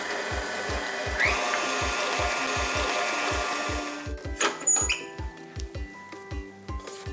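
An electric mixer creams sugar and butter for a Florentine bar crust, running with a rhythmic thumping churn. The motor drones steadily at first, then gives way to irregular knocks and clatter as the mixing slows.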